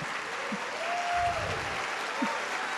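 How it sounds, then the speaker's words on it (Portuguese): A church congregation applauds during a Catholic priest's sermon, a steady wash of clapping from many hands throughout, with faint voices mixed in. "Se você aplaudiu é porque você entendeu."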